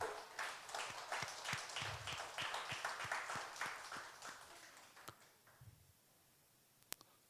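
A church congregation at a Friday late-night prayer meeting applauds to encourage students and young adults, a faint rhythmic round of clapping in unison that thins out and stops, followed by a couple of sharp isolated clicks.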